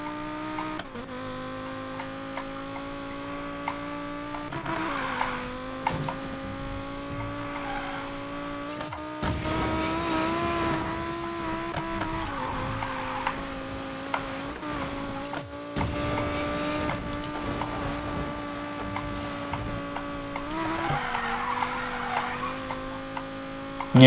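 Car engine revving and shifting in the Need for Speed Payback racing game on Xbox One S, a steady loud drone with rising and falling gear pitches and brief tire screeches, continuous throughout.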